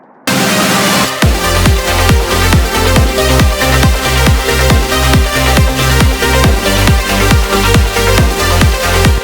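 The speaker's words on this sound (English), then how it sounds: "The mix without the master chain sounds like this." A full electronic music mix plays loudly, with a steady punchy kick drum pulsing under bright synths and layered melodic parts.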